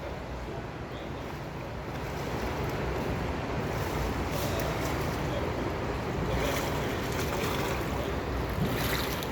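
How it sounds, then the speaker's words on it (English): A swimmer finishes the side stroke in a pool during a diver physical fitness test, with a steady, broad wash of water and splashing that runs unbroken throughout. "Here he is finishing with the side stroke."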